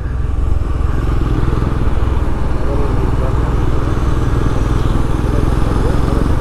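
A motorcycle engine drones steadily and loudly while the bike is being ridden on a road, a continuous close rumble with engine clatter that holds an even level throughout.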